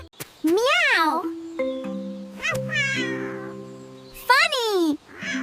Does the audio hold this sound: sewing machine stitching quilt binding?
no